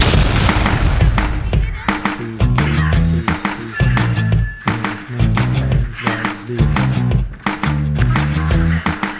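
Loud, continuous audio from the mobile game RoV (Arena of Valor), full of booming blasts and sharp bangs over a dense rumbling background, with a voice faintly underneath.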